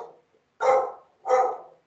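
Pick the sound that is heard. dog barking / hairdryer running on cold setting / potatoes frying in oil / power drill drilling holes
dog barking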